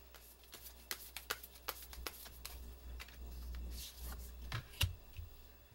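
A tarot deck is shuffled and cards drawn, with a quick series of close, crisp card flicks and riffles, then a soft steady shuffle and a final sharper snap, over low room hum.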